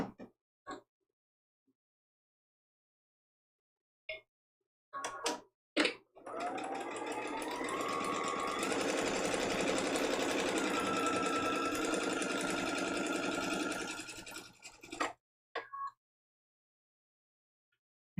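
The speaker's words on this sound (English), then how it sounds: "And we're just going to be chain piecing these." A sewing machine chain pieces quilt block fabric for foundation paper piecing, running in one long steady whirring burst of about nine seconds, framed by short start-stop stitches and faint handling sounds.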